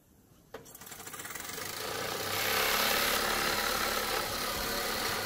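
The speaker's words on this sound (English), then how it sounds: "This Stirling engine powered by the heat from my hand." A small Stirling engine runs on the warmth of a hand, producing a rapid, rhythmic mechanical whir that starts with a click and builds into a steady, close, continuous chatter.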